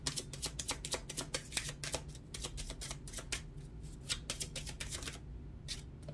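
Tarot cards are shuffled and drawn in a quiet room, a rapid run of crisp riffling flicks and slaps close by, continuing for several seconds before easing off.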